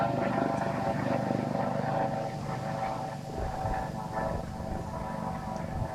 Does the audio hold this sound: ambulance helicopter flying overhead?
yes